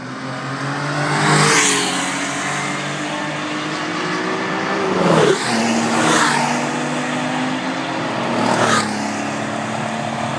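Race car engines drone at a Sachsenring track day, with several loud passes that swell and whoosh by against a constant mechanical roar.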